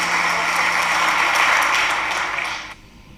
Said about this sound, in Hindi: आप लोगों ने जो मेरे स्वागत में इतनी घनघोर तालियां बजाई